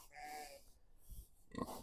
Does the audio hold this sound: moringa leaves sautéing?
no